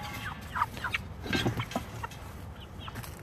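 Several chickens cluck and squawk in short, irregular bursts, fairly quiet, close by with faint background noise, on a chicken farm during weighing.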